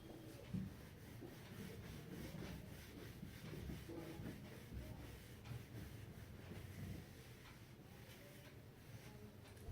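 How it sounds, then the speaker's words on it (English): Writing wiped off a board during a binomial expansion lesson, a steady, close rubbing and scrubbing that runs continuously for several seconds with no talking. "Let me rub it out."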